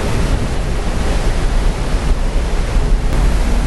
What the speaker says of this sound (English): Look at the water being stirred up by the propeller.